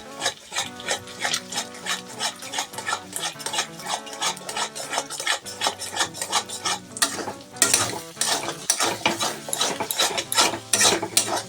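Eggs and potatoes are stirred in a frying pan, giving a steady rhythmic scraping and sizzling that runs throughout, close and fairly loud, with a tonal background layer underneath.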